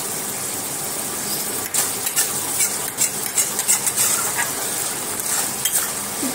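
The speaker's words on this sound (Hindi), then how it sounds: "माछ पई मसला कषौची" Masala for a fish curry fries in a pan, sizzling steadily while a spoon stirs and scrapes in a rhythmic series of close strokes.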